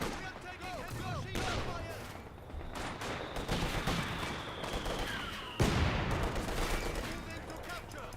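Flak guns fire in the Company of Heroes 2 battlefield, a dense run of sharp bursts and crackling shots with a sudden heavier blast near the end, someone talking over the gunfire.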